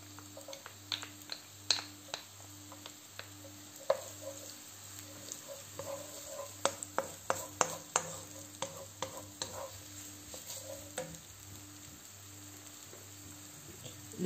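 Garlic sizzling in a pan while pasta gratin with minced meat is being made, a soft steady frying hiss broken by frequent light clicks and scrapes of stirring, near and fairly quiet, with no talk.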